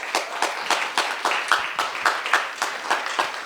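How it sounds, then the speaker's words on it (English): Audience at a TEDx Stevenson High School event clapping for its speakers, rhythmic unison claps at roughly two to three per second, close and steady with no speech over it. "round of applause to our wonderful speakers"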